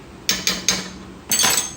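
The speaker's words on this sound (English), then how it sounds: "Give it a stir." Metal spoon clinking against a cooking pot while stirring vegetable oil, with three quick taps followed by a brief scraping clatter, close and clear with no talking.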